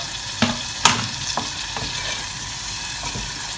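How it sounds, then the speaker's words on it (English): Chopped onion sweating in melted butter in a pan for a prawn risotto, a steady close sizzle broken by a few sharp clicks and scrapes of stirring, with no talking. "you put the onion in, all of it, and the garlic if you're doing garlic"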